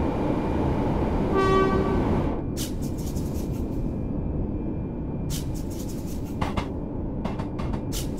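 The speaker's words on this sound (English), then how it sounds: "Maybe just a slight less sound with the train, just a tiny bit." Class 385 electric train in the Train Sim World 3 video game on the Edinburgh–Glasgow express line, a loud steady rumble of running wheels with a short two-tone horn blast near the start and scattered rattles and clicks.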